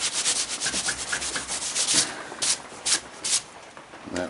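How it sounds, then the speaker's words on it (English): Abrasive grinding over a sawdust patch on a pine bowl, a soft rhythmic rubbing in short bursts, fairly quiet and alone. "The harder you grind it, the better it blends in because it kind of breaks the sawdust up."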